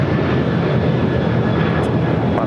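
Airliner taking off from runway 25 right at LAX, a loud, steady engine roar close by with a faint whine on top, no voices over it.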